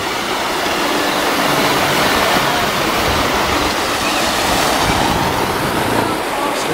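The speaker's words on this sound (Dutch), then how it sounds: "Schitterend dat water ook, hè." Steady, loud rushing of flowing water at the renovated Kasteel Doornroosje castle, a continuous broadband wash with no breaks.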